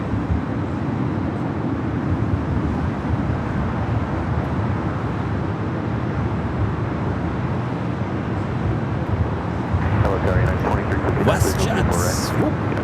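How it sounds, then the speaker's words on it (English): A WestJet Boeing 737-800 arriving from Calgary at Los Angeles LAX gives a steady, broadband jet roar that holds evenly throughout, with brief talk near the end. "WestJet. There it is. 737-800 coming from Calgary."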